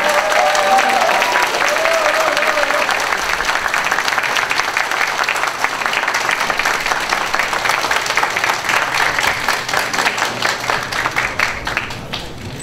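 Audience applause welcoming Moon Jae-in onto the stage at a youth interview event, loud sustained clapping from a large crowd filling the whole stretch.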